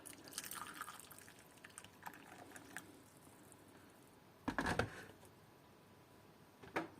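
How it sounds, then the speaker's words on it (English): Hot boiled water poured over candlenut seeds in a brief splashing burst, with small drips and faint handling noises before and a short splash near the end. "pour the cooked water over your candlenut"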